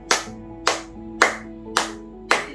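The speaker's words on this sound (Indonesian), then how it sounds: "Anak-anak di rumah tepuk tangan 5 kali." Five sharp hand claps in a steady, even rhythm at about half-second intervals, close and clear with a short ring after each, from children clapping along in an online Sunday school class for toddlers and young schoolchildren.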